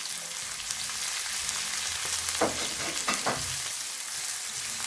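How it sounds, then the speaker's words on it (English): Vegetables fry and are stirred in a pan for spicy masala pasta, a constant close sizzle with a few spoon scrapes and knocks standing out midway. "We're going to stir the vegetables for around 2 minutes just to make them a little bit soft."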